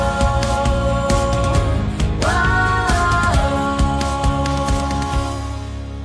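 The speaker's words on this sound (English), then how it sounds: "So right now what you're hearing is our panic alarms being tested." Panic alarms under test inside a youth shelter building in Edmonton sound as loud, steady, stacked electronic tones that shift pitch about a third of the way through and keep sounding without a break.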